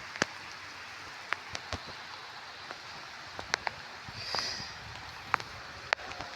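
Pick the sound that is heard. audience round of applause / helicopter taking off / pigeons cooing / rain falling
rain falling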